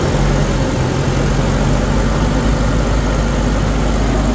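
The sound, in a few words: Nissan NV350 van engine running at about 1500 RPM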